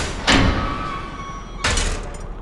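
Door opening in the video game Resident Evil Survival Unit: two loud, sharp clunks about a second and a half apart, with a faint steady hum between them.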